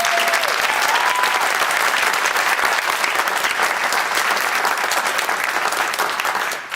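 Dense, loud applause from an audience at a TEDx event, a continuous wash of many hands clapping that holds steady for several seconds, with a faint voice near the start.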